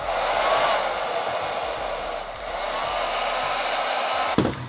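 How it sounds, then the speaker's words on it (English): A hair dryer blows steadily at close range over glued wig lace, a continuous airy whoosh with a slight shift in pitch midway and a brief click near the end. "I'll just use a blow dryer to kind of speed up the drying process"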